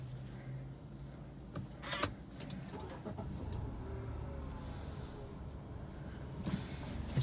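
A 2021 Nissan Almera 1.0 turbo starts with a push button: a short crank and catch around two seconds in, then a low, steady idle hum close by, with a few light clicks and no talk.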